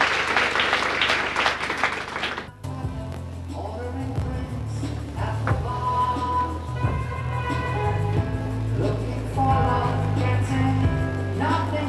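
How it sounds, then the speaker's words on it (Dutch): An audience applauds in a hall, a broad patter of clapping that starts loud and then continues under music and scattered sounds until the end. "Ik wilde daar graag een applaus voor."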